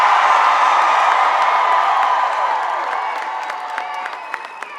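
A large crowd at an outdoor political rally in Norfolk, Virginia, cheers and applauds loudly, with whoops and claps that slowly fade.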